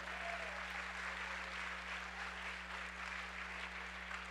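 Steady, distant applause from a middle school graduation audience, a soft continuous patter of many hands over a low electrical hum, with no voices standing out.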